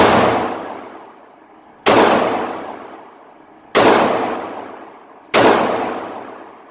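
A used Ruger LC9 pistol fires four loud, sharp shots at the range, evenly spaced about two seconds apart, each crack followed by a long decaying echo.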